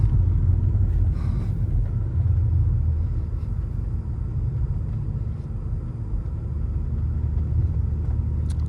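A 2008 BMW E90 335i with 200k miles, upgraded turbos and a limited-slip differential, accelerates after shifting into second, giving a steady loud low engine rumble heard from inside the car with no talk.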